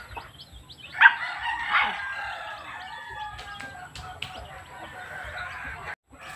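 Chickens cluck softly nearby in a rural yard where a hen keeps a single chick, with a louder call and a few scattered squawks and peeps over a quiet background.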